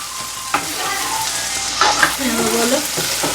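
Banana flower curry sizzles steadily in a hot pan, with a few sharp scrapes and clanks of stirring breaking through the frying.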